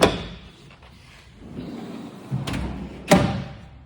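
Rear trundle drawer in a vehicle canopy on an INEOS Grenadier, sliding with a low rumble that builds gradually, then two sharp knocks as it stops, outdoors and fairly close.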